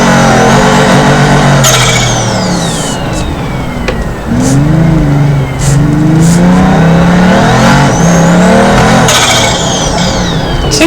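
A Pagani supercar in the BeamNG.drive video game roars loudly as its engine accelerates and revs, rising in pitch, dipping briefly at gear shifts and climbing again throughout.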